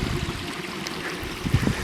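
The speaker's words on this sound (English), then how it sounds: "So there's the stream, the original path of the stream." A small stream trickles and burbles along its original path beside a restored wildlife pond, with steady close water noise and a few louder splashy gurgles toward the end.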